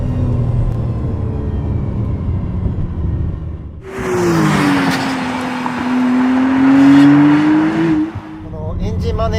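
A 2025 McLaren Artura in sport mode climbs a winding mountain road, its engine note rising and holding a loud sustained tone through a bend after a quieter cabin stretch, with light tire and road noise alongside.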